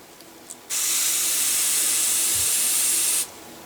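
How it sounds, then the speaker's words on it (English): A steam hiss sprays steadily for about two and a half seconds onto wet wood through a towel, raising a dent in a gunstock in a gunsmith's workshop; it starts and stops abruptly, loud and close, with no talk. "right on the spot and just steam it"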